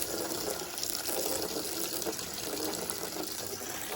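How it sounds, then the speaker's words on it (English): Water runs steadily from a garden hose while filling up, a continuous hissing gush at moderate level that stays even for several seconds with no talking. "Okay, now fill up water."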